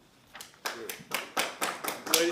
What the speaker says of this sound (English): can we please hold our applause?